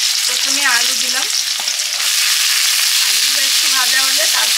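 Small round field potatoes fry in hot oil with five-spice and dried red chillies, giving a loud, continuous sizzle close up, with a faint voice underneath at moments.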